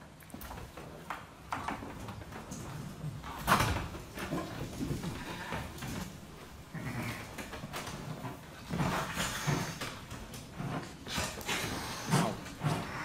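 Sheep bleating, several faint bleats scattered across a noisy background with some rustling, fairly quiet and not close.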